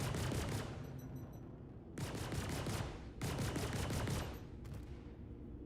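Bursts of ship-mounted weapon fire in the space game Star Citizen, three or four loud rapid-fire volleys with short gaps between them, no talking over them.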